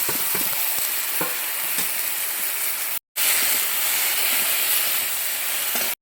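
Taro stolons (kochur loti) frying in a pan with onion and garlic paste while being stirred, a steady loud sizzle with scraping stir strokes, a brief break near the middle, no talk.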